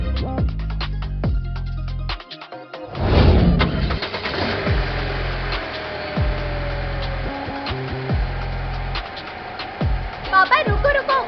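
A car engine cranks and catches, then settles into a steady idle with a low mechanical hum, accompanied by intermittent clicks and thumps nearby.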